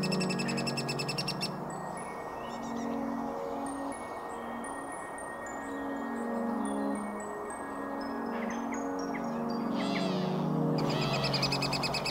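Lesser spotted woodpecker chicks beg for food from the nest, a steady stream of high, thin piping calls over a low continuous background hum, with a few clearer chirps near the start and end.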